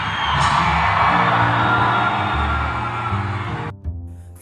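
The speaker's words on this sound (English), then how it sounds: "Let's give the Lord a hand clap." A church congregation claps and shouts together in a loud, sustained roar of applause and cheering that cuts off abruptly near the end, followed by a brief thump.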